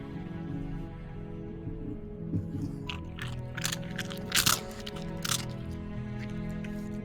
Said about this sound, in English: maybe you can hear him crunch a bit